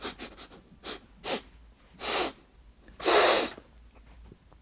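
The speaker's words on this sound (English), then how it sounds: "We gotta have a good little sniff around" Repeated sniffs close to the microphone, short quick inhales building to a few longer, louder breathy snorts.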